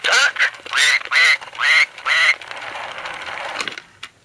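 A duck quacking, played back by a 1980s See 'n Say pull-string toy: a run of loud, close quacks in an uneven rhythm, followed by a softer, noisy tail and one last faint squawk.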